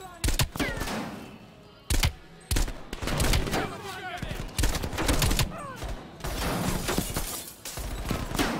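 Gunfire from the video game Call of Duty Black Ops Cold War: several loud, sharp bursts and rapid shots spread through the clip, with a busy layer of combat sound between them.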